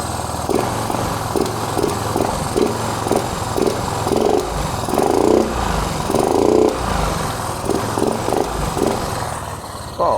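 A Honda Click 110i scooter engine with a tweaked idle screw is blipped in quick, sudden revs, several sharp rising bursts of buzzing small-engine noise close by over a steady idle.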